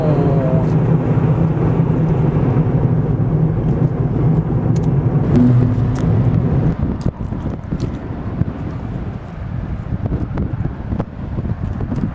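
A car drives up a fjord in Iceland, its road and engine drone steady and close under gusting wind buffeting the microphone, with scattered clicks and knocks.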